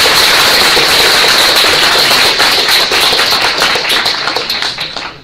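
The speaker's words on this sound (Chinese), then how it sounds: "好像掌声刚过了，再来一次好了" Audience applause at a panel discussion on open-source culture in education: a dense, steady burst of many hands clapping at once, holding loud for a few seconds and then thinning and fading out.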